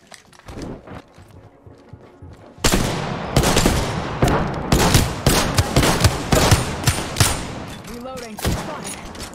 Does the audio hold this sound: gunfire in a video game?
yes